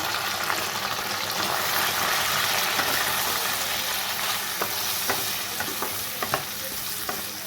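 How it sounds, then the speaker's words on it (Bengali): Ginger paste with turmeric and salt fries in a pan for a spicy fish curry, a continuous loud sizzle with repeated scraping clicks of a spoon stirring close by. "একটু কষিয়ে নেব নেড়ে চেড়ে"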